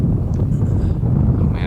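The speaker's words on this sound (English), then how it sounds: "oh man, it's so windy up here." Strong wind roars and buffets across a mountainside mine, a loud, constant low rumble of gusts hitting the microphone, with a voice faintly present beneath it.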